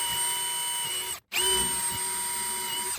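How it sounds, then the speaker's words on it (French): A drill bores down through the top of an exotic wood decking board, a steady high motor whine with a brief stop and restart, loud and close with no talking. "Du coup j'ai besoin de percer par le dessus."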